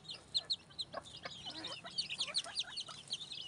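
A flock of thirteen young F1 jungle fowl chicks peep and cheep in quick, high chirps, close and fairly faint, with no talking.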